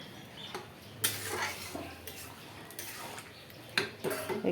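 Lentil dal mixed with onion, garlic and tempering spices is being stirred in a pot, producing light, irregular clinks and scrapes of a metal spoon against the rim, a few louder knocks standing out over a quiet background.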